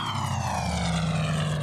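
A propeller airplane drones steadily in flight, a loud, continuous engine roar with a low hum that shifts slightly in pitch, filling the whole moment without any voices.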